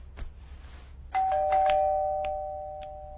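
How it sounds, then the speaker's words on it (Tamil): A doorbell at home rings once with a bright two-tone chime, its tones lingering and fading over a quiet room, with faint tapping before it. "காலிங் பெல் அடிச்சதும் என்ன எழுப்பி விடாம அவன் போய் பார்த்தான்"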